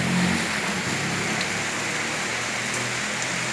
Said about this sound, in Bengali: সকাল থেকে বৃষ্টি, প্রচণ্ড বৃষ্টি পড়ছে,